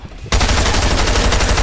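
Sustained rapid SMG fire in a video game arena match, a loud continuous burst starting abruptly after a brief quiet moment and holding steady to the end.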